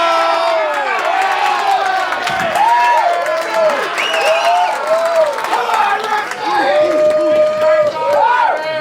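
A crowd at a match screaming and shouting together for a replay, loud sustained overlapping voices with whoops and cheers rising and falling throughout.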